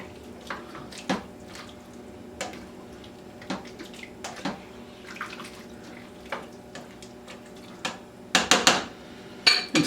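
A spoon stirs cabbage, potato and ham soup in a pot, giving scattered clinks and scrapes against the metal, quiet and close, with a few louder knocks near the end.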